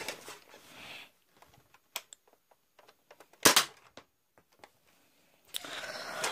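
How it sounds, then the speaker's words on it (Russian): A Nerf Delta Trooper foam dart blaster fires a few sharp, snappy pops spaced apart, with faint mechanical clicks and handling noise in between, close and otherwise quiet. "Сейчас мы проверим стрельбу Нерфа."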